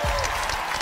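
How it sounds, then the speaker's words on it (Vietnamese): A live audience claps for a parkour team at a televised competition, a brief burst of dense, loud applause with crowd noise and a voice speaking over it. "Một tràng pháo tay dành cho Northside PK."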